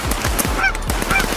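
A flock of geese flies in over a cold hunting spread, loud overlapping honks repeating in quick, uneven bursts, close and dense with no talking.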